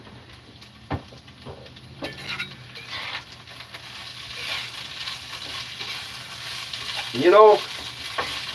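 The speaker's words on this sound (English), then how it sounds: "Let me stir these taters real quick." Parboiled potatoes fry in a pan with a soft sizzle while being stirred, with scraping and a few clinks of a utensil against the pan. Someone speaks briefly inside a truck camper.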